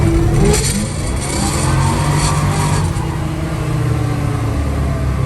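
A car in second gear accelerates hard from a rolling start with the throttle floored, its engine roaring loud and close and building steadily with no pause.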